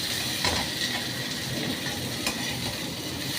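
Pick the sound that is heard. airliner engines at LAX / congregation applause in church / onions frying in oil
onions frying in oil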